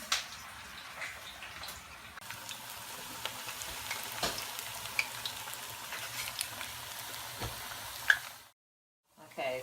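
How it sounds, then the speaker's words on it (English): Plantains for mofongo fry in hot oil with a steady crackling sizzle and scattered pops, close and moderately loud, before the sound cuts out abruptly near the end, with no talk. "And then you're gonna let these fry up for about 2 to 3 minutes."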